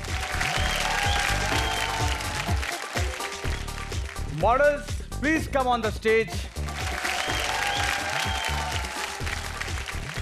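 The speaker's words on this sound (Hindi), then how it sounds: "जोरदार तालियां।" Studio audience applause on a Hindi TV game show plays under music, with a host speaking clearly over it in the middle as contestants are called to the stage.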